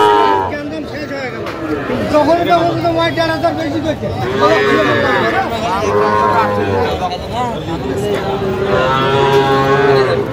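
Several cattle, including young bull calves, moo loudly and repeatedly at a farm in Cumilla, Bangladesh, long drawn-out calls overlapping one another, with a murmur of people talking underneath.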